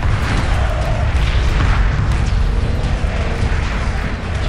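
Missiles streak and explode in the space strategy game Homeworld Remastered, a loud, dense wash of booming blasts and rumbling impacts that continues without a break.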